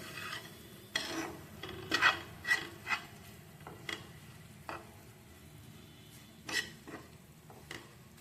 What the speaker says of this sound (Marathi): आता गुळ टाकला आहे आणि गुळासोबत मिक्स करून घेते